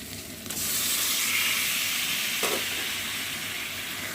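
Bombay duck fish dropped into hot, oil-separated spiced masala in a pan sets off a loud, steady sizzle that swells after a brief quieter start, with a short scrape of stirring partway through.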